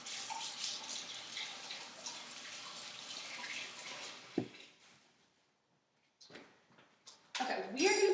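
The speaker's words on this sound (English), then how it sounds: "we're going to wash my hands really quickly." Hands are washed under a running kitchen tap during cookie baking, a steady close rush of water lasting several seconds before it cuts off, followed by a few short clatters and handling knocks.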